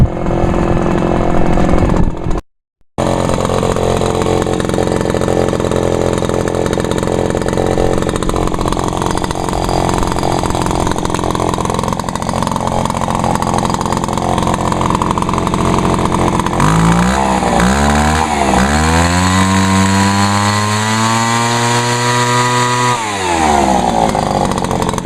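A loud lawn mower engine drones steadily while cutting grass, close and continuous, dropping out briefly near the start, then shifting pitch with revving and slowing toward the end.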